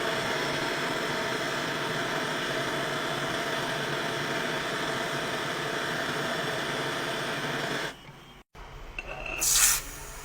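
A torch roars with a steady, close hiss while annealing a Walking Liberty half dollar coin ring, then cuts off abruptly near the end, followed by a short clatter.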